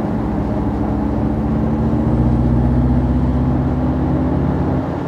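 A 2022 Mini Countryman JCW in green mode accelerates with a steady, droning engine hum and rising whine, heard continuously from inside the cabin with road noise and no voices.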